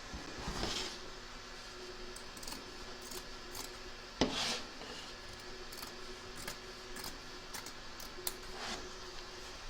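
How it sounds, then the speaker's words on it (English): Scissors snip away excess quilt batting around the edge of an embroidered stitch line on machine-appliqué work, giving faint, intermittent cutting and rubbing sounds with one sharper click, close by in a quiet room. "Trim away the excess batting from around the edge of the stitch line, taking care of course not to cut your stitching."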